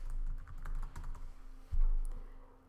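Typing on a computer keyboard while writing in Google Docs: a short burst of soft, uneven key clicks, with a louder cluster of taps near the end.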